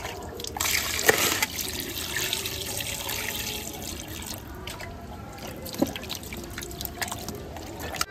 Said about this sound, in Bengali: মাংস কাটা হয়ে গেল, এবার ধুয়ে নিই নাকি?